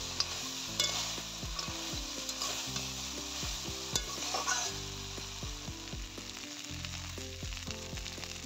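Shukto vegetables with lentil dumplings (bori) being stirred in a pan, a spatula scraping and knocking in repeated strokes over a steady low sizzle, close and fairly quiet with no voices.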